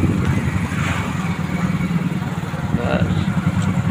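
A Hero Splendor motorcycle engine revved up, its steady mid-pitched putter rising in short surges close by, while a voice keeps talking over the engine.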